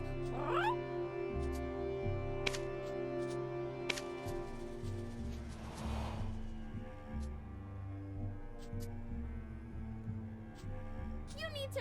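Cat meowing inside the online role-playing game Black Desert Online, a few short in-game cries over steady music and ambient game sound, with someone talking throughout.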